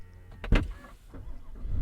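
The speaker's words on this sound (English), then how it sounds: "When you're inside the car, put your foot on the brake to close the door." Power rear door of a 2025 Cadillac Escalade Platinum closing, a low mechanical whir with a firm thud as it shuts, followed by a low hum of the vehicle.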